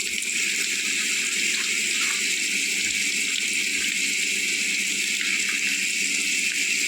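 Hot water gushes steadily from a pipe outdoors, a loud, even, hissing rush of flow without pauses and no speech over it.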